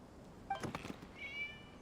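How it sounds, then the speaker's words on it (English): A cat in the video game Genshin Impact gives one short, faint meow, and a soft chime follows. No one speaks. "It was just a cat."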